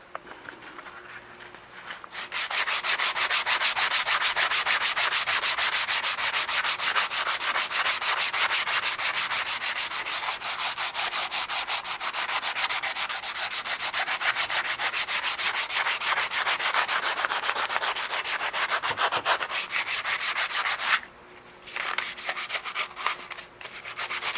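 Steady abrasive rubbing of 150-grit sandpaper on the saddle of a 14.5-inch South Bend metal lathe, loud and continuous for about twenty seconds, with a brief pause near the end before it resumes.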